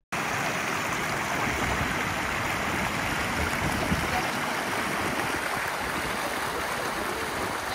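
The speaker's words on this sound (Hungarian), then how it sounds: "ez pedig itt a São Jorge nevű patak" The São Jorge stream on Madeira rushes over its bed in a constant, full roar of flowing water, heard close and loud throughout without a break.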